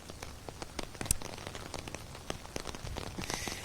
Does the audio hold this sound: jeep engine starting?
no